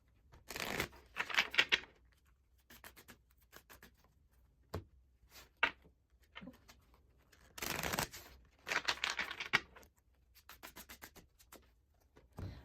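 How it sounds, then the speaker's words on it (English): Tarot card decks being shuffled by hand, with repeated soft riffling and rubbing bursts separated by quiet pauses, close and fairly faint, with no one speaking. "let's get these decks shuffled up"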